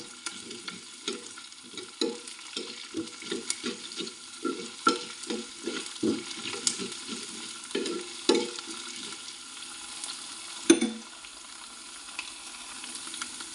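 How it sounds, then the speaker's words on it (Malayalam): Chopped onion, ginger and garlic fry in hot oil in a pan while being stirred, producing a steady sizzle broken by a rapid series of close scraping stirs, with a sharper knock near the end. "സവാള ഒന്ന് വാടി വരുന്ന സമയത്ത് അരിഞ്ഞു വെച്ചിരിക്കുന്ന ഇഞ്ചി വെളുത്തുള്ളി കൂടി ചേർത്ത് കൊടുക്കാം എന്നിട്ട് നന്നായിട്ടൊന്ന് യോജിപ്പിച്ചെടുക്കാം"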